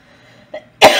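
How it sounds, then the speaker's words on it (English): A single sharp, loud cough near the mic, preceded by a brief throat sound, with quiet background otherwise. "So, excuse the coughing."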